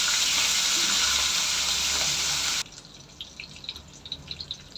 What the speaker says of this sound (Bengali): ইলিশ মাছকে হলুদ মরিচ দিয়ে লবণ দিয়ে মেখে এখন আমি তেলে ভেজে নিচ্ছি